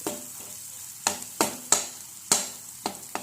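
A prawn mixture for prawn kothu chapathi stir-fries in oil, giving a low sizzle under a series of sharp metal spatula clanks and scrapes against the pan.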